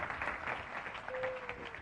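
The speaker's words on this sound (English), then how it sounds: "Give a round of applause" Audience clapping continues briefly at a live seminar as a volunteer comes on stage, a soft, steady patter of hands heard at a distance, with a faint tone through the second half.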